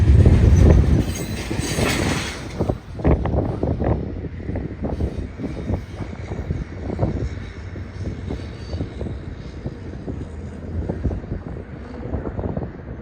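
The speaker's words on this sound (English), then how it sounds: "stack train heads for Alliance for a crew swap before eventually continuing all the way up to Chicago." A BNSF intermodal double-stack train rolls past on a busy main line, a steady close rumble of wheels and cars with clanking joints, loudest at the start and holding on throughout without voices.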